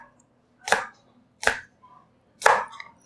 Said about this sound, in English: And slice the spring onion.